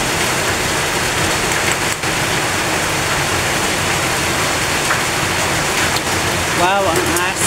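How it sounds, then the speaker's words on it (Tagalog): Heavy rain pours down steadily during a home kitchen meal, a loud continuous hiss with a brief passing vehicle sound near the end and speech partly over it. "Dinig nyo naman ang ulan."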